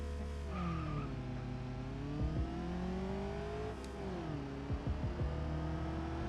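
A Corvette accelerating down a quarter-mile strip in the BeamNG driving game, its engine droning steadily with rising and falling pitch through gear changes and brief tire chirps, loud and continuous.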